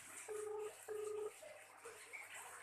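Two steady electronic ringback tones, each about half a second, separated by a short pause, followed by quiet background noise.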